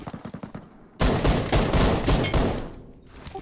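Rapid automatic gunfire from PUBG Mobile, a few quick shots at first, then a dense, loud sustained burst for about two seconds that tapers off.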